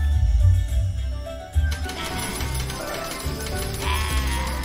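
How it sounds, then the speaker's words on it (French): Gold coins rain down in a cartoon, a sudden bright shimmering cascade of jingling metal that starts partway through and keeps going over light music. "Il pleut des pièces d'or!"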